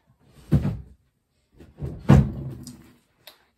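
Two wooden thuds as a dresser drawer holding shorts is pulled open in a bedroom, a dull knock followed by a longer sliding scrape, close and alone, ending with a small click.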